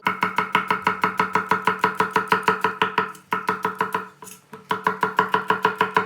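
A knife chops garlic cloves rapidly and evenly on a cutting board, a steady stream of crisp close taps with one brief pause midway.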